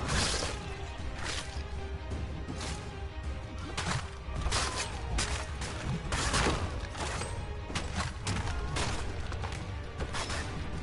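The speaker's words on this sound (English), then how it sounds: "Use those spare muskets and you won't have to reload." Musket gunfire in the video game Assassin's Creed III, a dense battle scene of repeated shots, crashes and whooshes in a continuous loud mix of combat sounds.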